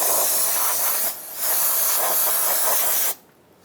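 Aerosol brake cleaner sprays onto the front brake parts of a 2000-2007 Ford Taurus in a loud, close, steady hiss with a brief dip, then cuts off abruptly.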